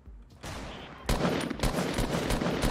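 Hunting rifle gunshots in a competitive shooter video game, a rapid series of sharp cracks amid dense gunfire, loud and close.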